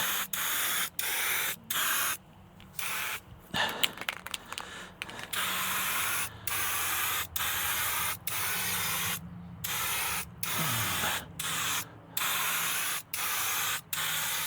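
A spray gun lays one coat of paint on a body in repeated sustained hissing passes of about a second each, broken by short gaps and a brief clatter, loud and close with no talk.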